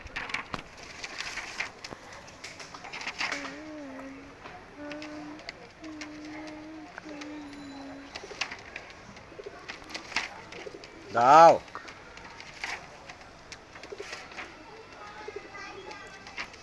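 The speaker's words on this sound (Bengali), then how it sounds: "এটা একটা নর কবুতর।" Male pigeons of a Giribaz breed coo softly in repeated low throaty phrases, faint and close, while someone talks at intervals and one sharp rustling burst stands out.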